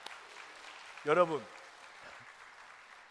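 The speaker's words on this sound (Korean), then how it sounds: "박수." A church congregation at a Sunday service applauds with steady, fairly faint clapping. Someone speaks briefly over it.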